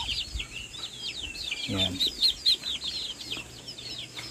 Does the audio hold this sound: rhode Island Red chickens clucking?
yes